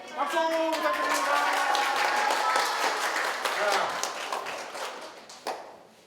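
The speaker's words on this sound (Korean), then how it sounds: "박수 부탁드립니다" Elementary school students and other visitors applauding at Daegu City Hall, a lively burst of clapping with distinct hand claps that fades toward the end, while voices are heard speaking and calling out over it.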